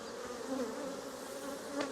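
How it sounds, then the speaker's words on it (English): Agitated honeybees buzzing around an open hive during an inspection, a dense steady drone close to the microphone with individual bees swelling louder as they pass, no talking. "Bees are getting more and more angry now."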